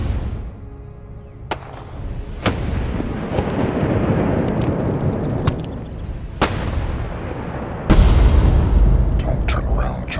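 A gun fires repeatedly, with four or five sharp, loud blasts ringing out over a steady rumbling background. Some blasts are spaced seconds apart and one comes late and heavy.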